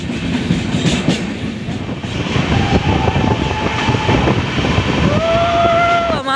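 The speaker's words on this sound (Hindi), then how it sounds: "तो फाइनली हमारी गाड़ी पहुंचाई है श्री माता वैष्णो देवी कटरा" Passenger train pulling into Shri Mata Vaishnodevi Katra station, loud rumbling clatter of wheels and cars close by, with rising tonal squeals or a horn-like whine toward the end as it slows.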